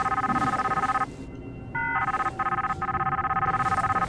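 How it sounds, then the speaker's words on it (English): A telephone rings inside a horror video game, its bright electronic trill repeating in bursts with brief gaps over a murky, low ambient background, fairly close and with no talking. "you're just gonna have to keep ringing"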